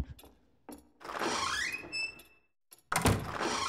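In a co-op horror game, a door opens with a thunk, a creaking, rising scrape and a couple of bumps, then a loud knock-like impact after a brief silence.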